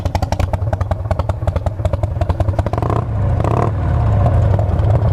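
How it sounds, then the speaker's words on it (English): A motorcycle engine idling while it warms up, a close rapid lumpy putter that shifts near the midpoint into a smoother, louder steady drone. "5 to 6 minutes, this motorcycle will be ready to go, because that's about how long it takes for it to warm up"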